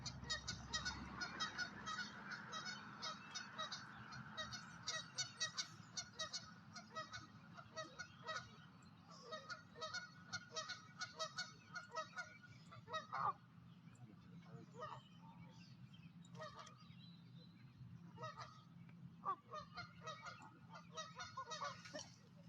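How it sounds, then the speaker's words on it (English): A flock of geese honks repeatedly in loud, overlapping bursts over about twenty seconds, with people talking nearby beneath the calls. "Look at all the geese."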